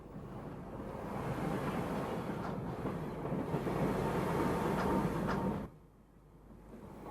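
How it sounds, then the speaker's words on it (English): Steam train gathering speed along rails across open heathland, a steady broadband rumble and rattle of wheels and carriages running continuously before dropping away abruptly near the end. "Slowly the train picks up speed, crossing the Carhaix road and onto the rolling heathland."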